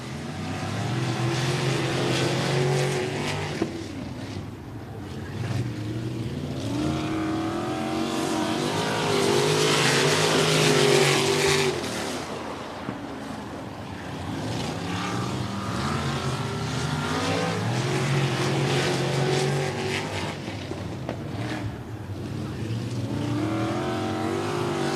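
Hobby stock and sprint race cars roar around the Stuart Raceway track, engines swelling and fading as packs pass, with a loud surge midway and continuous engine drone throughout.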